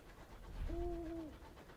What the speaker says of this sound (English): Oh good, owl sounds!